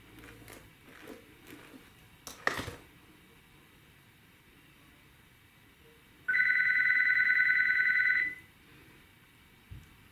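A landline telephone rings in one steady electronic burst of about two seconds, fairly loud against a quiet room, with a few faint knocks and rustles before and after.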